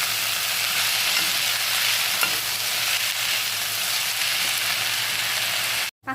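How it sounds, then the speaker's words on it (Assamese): Chopped greens frying in a pan: a continuous, even sizzle with soft stirring, close and steady, no talk, cut off abruptly near the end. "শাকখিনি দি অকণমান ভাজি ল'ম।"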